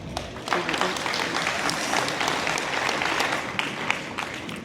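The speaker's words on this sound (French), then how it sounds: "accompagnons M. Vincent à sa table avec une bonne main d'applaudissements" An audience at a Quebec agriculture hall of fame induction applauds steadily, a dense, even patter of many hands held for several seconds, with a voice faintly underneath.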